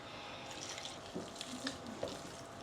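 Water runs from a tap and splashes into a pot of African breadfruit porridge, a steady close stream with a few small gurgles and drips.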